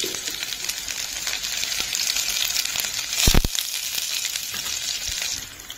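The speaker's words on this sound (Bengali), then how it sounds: "পেঁয়াজটা হালকা করে ভাজা হয়ে যাবে যখন" Sliced onion fries in hot oil in a home kitchen, giving a steady, close sizzle with a brief clatter of stirring partway through.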